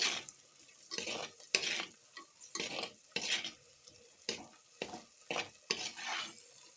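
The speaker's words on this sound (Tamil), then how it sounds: "தக்காளி இது மாதிரி கொஞ்சம் வதங்கி முடித்த உடனே" Tomatoes sauté in a pan for radish kuzhambu, stirred in a steady rhythm of soft scraping strokes over a faint sizzle, close and fairly quiet with no talking.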